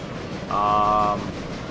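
A modded Baldwin steam locomotive in the Railroader train simulation game gives a short, clear tonal whistle-like blast lasting under a second over a low rumbling background.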